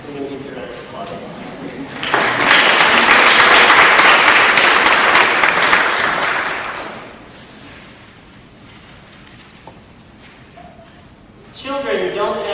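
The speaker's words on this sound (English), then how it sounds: "So we can give you a round of applause." Audience applause at a Clinton School lecture, swelling into a loud, dense wash of clapping after a few seconds of speech, holding for several seconds, then fading to a murmur before a voice resumes.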